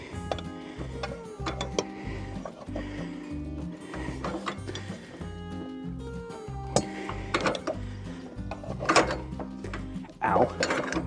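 A clamp being tightened down on a poplar or birch log at a sawmill, close ratcheting and clicking mechanical turns in an uneven rhythm over a low machinery hum, with occasional sharper knocks.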